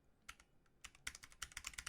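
Sharp clicks of a computer keyboard being typed on to turn a virtual cube, sparse at first and then coming in quick, irregular bursts, soft and close, with no voices.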